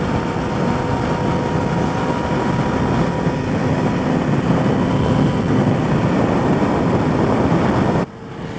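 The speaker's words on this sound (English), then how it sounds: "There's a plane flying this direction right now." A steady, loud engine drone with a broadband rumble from a low-flying airplane passing overhead in Los Angeles, heard from a motorcycle, holds throughout, then drops off abruptly near the end.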